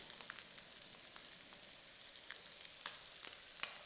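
Eggs fry quietly on a flat iron tava over low heat, with masala and salt sprinkled on top, giving a soft continuous sizzle with a few faint clicks of a spatula.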